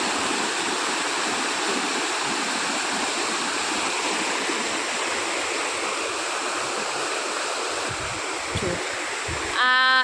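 Rainwater floods a farm field and rushes like a big river, making a steady, loud, continuous roar of flowing water, with a brief voice near the end.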